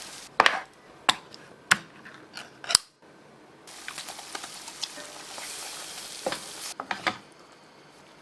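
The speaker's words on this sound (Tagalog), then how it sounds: "gagawa tayo ng gravy by putting flour dun sa oil and then lagyan natin ng water, beef cube, tsaka mushroom" Gravy of flour, oil, water, beef cube and mushroom cooks in a pan, with a few sharp clinks and taps of a utensil at first, then a steady soft sizzle and stirring with more scattered knocks.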